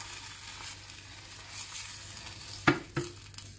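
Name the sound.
cold water added to toasted walnuts sizzling in pan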